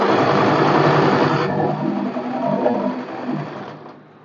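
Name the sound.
sewing machine double stitching an umbrella dress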